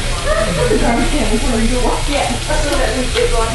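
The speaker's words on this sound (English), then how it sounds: "Those begin sauteing." Food sautéing in a hot pan gives a steady, loud sizzle throughout, with a person talking over it.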